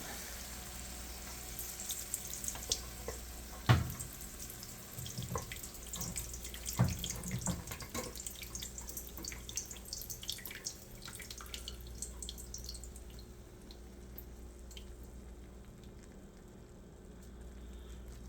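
Liquid fat draining from a tilted pan of ground beef and onions, a steady pouring, splashing stream into a sink with occasional clinks, trickling off and fading toward the end.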